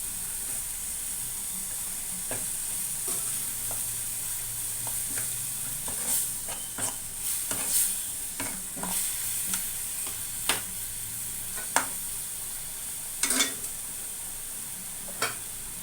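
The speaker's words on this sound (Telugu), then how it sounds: "ఇందులోనే టమాటా ముద్ద కూడా వేసి ఉడికిద్దామండి." Tomato paste cooking in a drumstick masala curry, a soft steady sizzle with occasional scraping stirs and clinks from the pan, close by with no talking.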